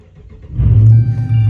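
A Dodge Challenger R/T engine starts up: a short quiet lead-in, then a sudden loud crank catching into a deep, steady idle rumble close by.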